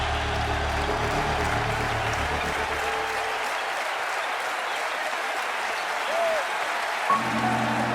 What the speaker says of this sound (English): The crowd erupts in a standing ovation.